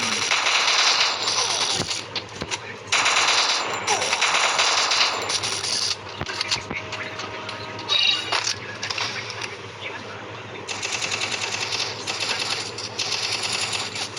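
Gunfire from the Free Fire video game comes in loud, dense automatic bursts that run almost continuously, broken only by brief gaps.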